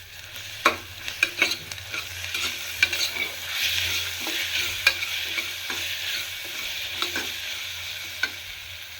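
Ginger garlic paste frying with softened onions in a pan for coconut milk rice, a steady sizzle broken by repeated clacks and scrapes of a spoon stirring.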